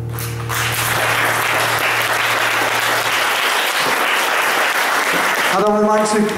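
Polish poetry competition audience breaking into warm applause, a dense sustained roar of many hands clapping that fills the room, with a low hum fading beneath it and a voice emerging at the end.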